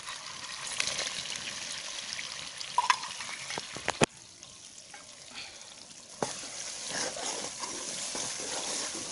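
Garlic and green chillies fry and sizzle in a pan of hot oil, a steady close crackling hiss with a few clinks from stirring, no talk.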